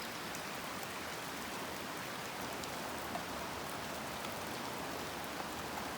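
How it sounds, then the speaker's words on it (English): Steady rain falling on the Nantahala River, a dense, even hiss of drops with no breaks, filling the whole scene at constant loudness. "We're out here on the Nantahala River in the rain catching fish."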